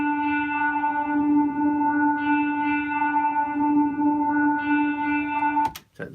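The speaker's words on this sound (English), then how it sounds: "you do the mix and then you pull the whole mix through a reverb" A whole music mix runs through a reverb effect, giving sustained, washed-out tonal chords that swell and overlap for several seconds before a sharp click cuts them off.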